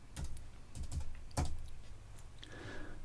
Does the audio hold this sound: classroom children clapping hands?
no